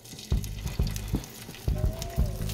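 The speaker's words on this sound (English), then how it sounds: "we're gonna add these sun-dried tomatoes to the mix" Sun-dried tomatoes sizzle in hot olive oil while pasta sauce is started, a steady close frying hiss broken by several soft thumps and clatters as they are added and stirred in the pan.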